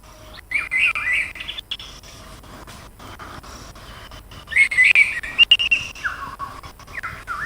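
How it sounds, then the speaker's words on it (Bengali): Orange-headed thrush and pitta birds call in two clear bursts of high, warbling whistles, one early and a longer one later, over a quiet outdoor background. "পাখির ডাক শোনাই আপনাদের। কমলা দামা এবং লালপিট"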